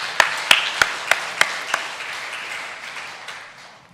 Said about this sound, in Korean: 하나님께 영광의 박수 올리며